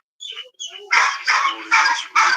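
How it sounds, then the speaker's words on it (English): Several caged dogs bark and yip in quick, sharp bursts, starting with thin whimpering cries before four loud barks follow in a steady rhythm. "Dogs in a cage."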